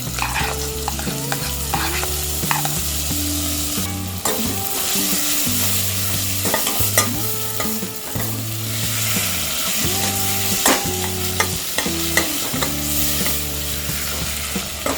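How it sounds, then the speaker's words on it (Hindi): Chopped tomatoes sizzling with spices in a pan for a curry-powder soup, a steady loud frying hiss with repeated scraping stir strokes throughout, no voices. "टमाटोज को हम सॉफ्ट होने तक फ्राई कर लेंगे"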